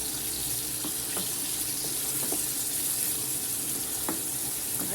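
Pasta being stirred in a pan over high heat, giving a continuous sizzling wash broken by scattered scraping and clinking taps from the utensil, with no talk.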